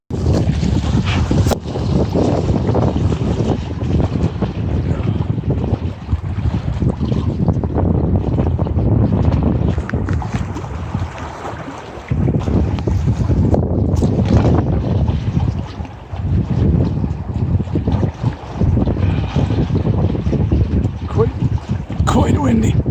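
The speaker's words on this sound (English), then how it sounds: "Quite windy today. The storm is here" Strong stormy wind by the water roars steadily into the microphone as a loud, continuous buffeting rush with brief dips, close and dominant.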